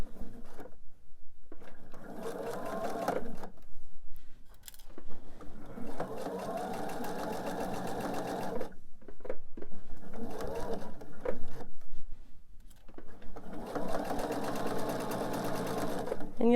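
A domestic sewing machine stitches quilt pieces in four loud, close runs of rapid, steady mechanical chatter, separated by short pauses with faint handling noise.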